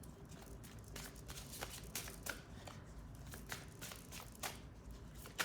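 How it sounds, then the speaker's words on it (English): Continuous close-up riffling and flicking of playing cards being shuffled, steady and crisp, with no voices. "I want to keep shuffling"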